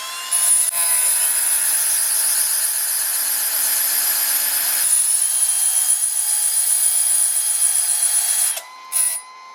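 A cordless drill spins a diamond-wheel sharpener as a tungsten electrode is ground, giving a steady high-pitched whine with gritty grinding that runs nearly continuously, then briefly stops and restarts near the end.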